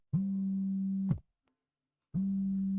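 A phone ringing in a pure electronic tone, one long ring of about a second, a pause, then the next ring starting, clear and close.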